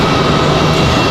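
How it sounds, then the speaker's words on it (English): A JetBlue airliner taxis into its gate at Raleigh-Durham International Airport, a steady broadband jet-engine roar holding at close, loud level for a brief stretch with no talk. "watch JetBlue's final roll into the gate"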